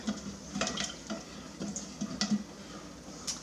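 Pickling brine with four garlic cloves is stirred in a pot, making light intermittent clinks and scrapes of a utensil that are quiet and close, with no voices.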